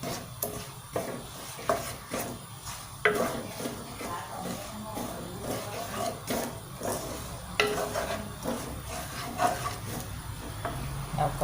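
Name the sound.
stir-frying curry paste in coconut milk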